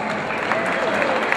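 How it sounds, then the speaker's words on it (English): Applause for event staff at an evening show, a steady, dense wash of clapping from an audience, loud and continuous, with some crowd voices mixed in. "I just want to give them a round of applause."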